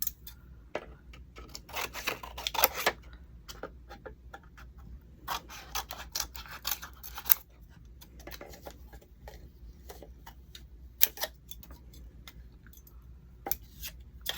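Scissors trim material for a thrift-flip decoupage craft project, quiet scattered snips and small clicks in irregular clusters against a faint, low background hum.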